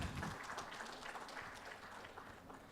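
Audience clapping at a panel presentation, a steady, dense wash of applause from a crowd that continues evenly throughout without pause.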